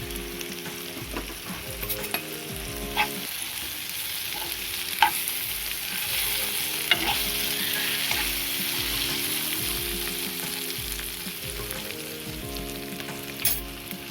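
Chopped tomatoes fry in a pan with turmeric for gongura chutney, a steady close sizzle running throughout with occasional soft stirring clicks and scrapes, no voices.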